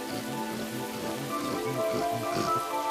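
Steady rain falls on leaves in a tropical forest where orangutans shelter, a dense continuous patter with scattered drops, fairly loud and with no voices.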